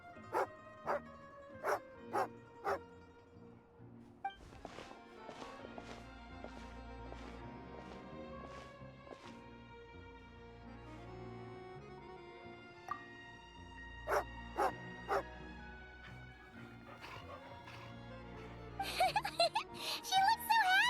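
A dog barks several times in Genshin Impact, short yaps at the start and again near the end over soft game music, with brief clip-clop-like steps and light chimes in between.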